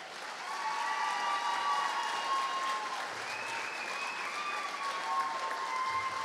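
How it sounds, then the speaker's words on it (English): An audience gives sustained, dense applause for an inductee at the St. Louis Sports Hall of Fame enshrinement, a full, even wash of clapping with no voices over it. "Please welcome to the St. Louis Sports Hall of Fame with your applause, Celeste Knierim."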